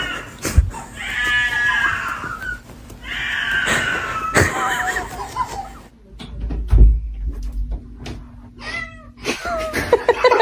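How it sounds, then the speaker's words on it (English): A house cat meows repeatedly at close range during play, giving several drawn-out, wavering cries with short pauses between them. "stop playing with me, cat."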